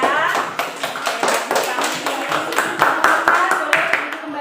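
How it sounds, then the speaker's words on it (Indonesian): A classroom of students claps for a group, with loud, fairly rhythmic claps landing in a quick beat across the whole stretch and voices mixed in among them. "kita beri tepuk tangan untuk kelompok akar ya"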